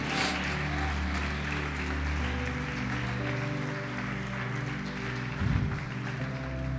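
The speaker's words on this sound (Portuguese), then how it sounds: "Pode aplaudir, glorificar o Senhor." A church congregation claps through a steady, sustained wash of applause beneath held keyboard or organ tones, with a brief swell near the end.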